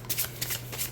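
Tarot cards being side-shuffled by hand, a quick run of soft papery riffles and slaps, close and quiet, with a faint low hum underneath.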